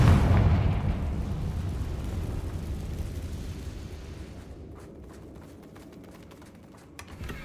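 A fiery magical blast from the Confringo spell in Hogwarts Legacy, a loud boom at the start that decays into a long rumbling tail and fades to faint crackles.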